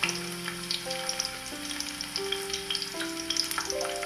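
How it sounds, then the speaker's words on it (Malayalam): Finely chopped garlic sizzles in hot coconut oil for a Kuttanadan duck curry, a dense continuous crackle close by with faint stirring, and no voices. "വെളിച്ചെണ്ണ ചൂടായി വന്നിട്ടുണ്ട്. ഇനി അതിലേക്ക് നമുക്ക് ചെറുതായിട്ട് അരിഞ്ഞു വെച്ചിരിക്കുന്ന വെളുത്തുള്ളി ഇട്ട് കൊടുക്കാം."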